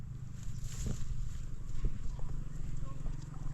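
A horse clip-clops on a bean farm with a few slow, distinct hoof knocks nearby, under a low steady hum with faint background voices.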